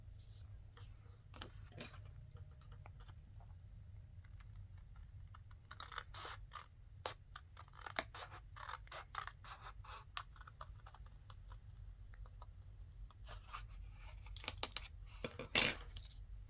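Scissors snip paper being trimmed for a book-page project, with scattered sharp clicks and crisp cuts at close range. Quiet and irregular, with louder clusters toward the end.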